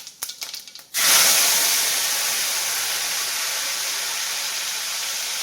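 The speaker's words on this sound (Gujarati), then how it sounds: "પેસ્ટ એડ કરતી વખત ધ્યાન રાખજો તેલના છાંટા ઉડવાનું તમારે પણ" A paste hits hot oil with a sudden loud hissing burst that settles into a steady, dense sizzle with spattering, after a few brief crackles at the start.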